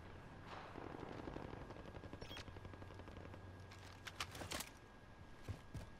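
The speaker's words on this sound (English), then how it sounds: "Where are they shooting at me from?" Video game gunfire: bursts of automatic fire and scattered single shots, clustered mostly in the second half and sounding moderately close over a steady background hum.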